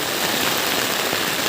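Steady, dense rainfall near the Meghalaya border, a loud continuous hiss with no pauses or voices.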